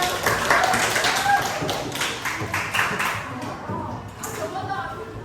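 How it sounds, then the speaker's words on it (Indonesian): A room of participants at a teacher training workshop claps for a presenting group, a few seconds of brisk, moderately loud applause that tapers off, with some talking mixed in. "beri aplaus untuk kelompok 2"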